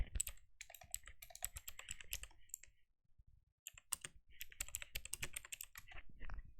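Close, quick typing on a computer keyboard, bursts of clicking keys with a short pause midway before resuming at a steady pace.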